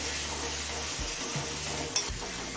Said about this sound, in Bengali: এবার এই আদা রসুনের কাঁচা গন্ধ চলে যাওয়া পর্যন্ত কষিয়ে নেব।